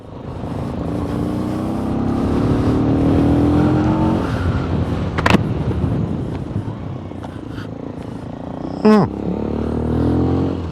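MGB ATX-T 125 motorcycle ridden on the road, its engine droning and rising through the revs with steady wind rush, plus a couple of sharp brief knocks along the way.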